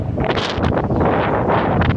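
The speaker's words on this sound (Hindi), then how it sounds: "इस वक्त बड़ी गर्म हवा चल रही है मदीने में।" Hot wind blows across an open area at the Prophet's Mosque in Medina, buffeting the microphone in a continuous rough roar with gusty surges.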